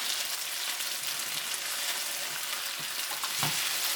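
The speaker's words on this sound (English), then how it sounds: "Just cook them, kind of brown them real lightly" Tofu pieces browning lightly in a pan sizzle steadily in a dense, even frying hiss with a few soft pops, close and alone without voices.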